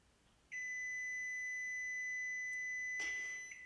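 A bread machine's timer gives a long, steady electronic beep, followed by a short second beep near the end, clear against a quiet room.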